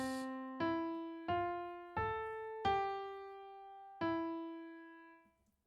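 A plucked melody of several single notes, each decaying slowly, rings over the backing chords. The last note is held longest before fading out, and the whole line is soft and unhurried.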